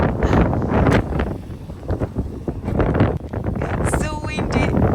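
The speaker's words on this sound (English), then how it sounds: "So windy." Strong wind buffeting a microphone outdoors in Vladivostok near Russkiy Island, loud low rumbling gusts surging and easing continuously, with a voice briefly audible amid the roar.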